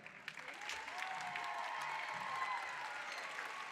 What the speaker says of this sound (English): One more big round of applause for the junior high choir.